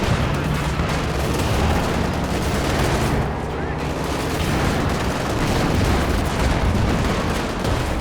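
A ZiS anti-tank gun fires amid a dense, loud Company of Heroes 2 battle, its heavy booms blended into a continuous wall of gunfire and explosions.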